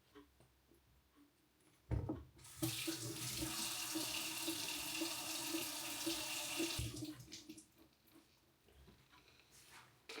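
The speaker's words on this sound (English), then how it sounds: "I'm gonna wash my hands as well." A kitchen tap runs at home for handwashing, a steady rushing stream of water hitting the sink for about four seconds after a clunk of the faucet opening, fairly close with a quieter lead-in and fade-out.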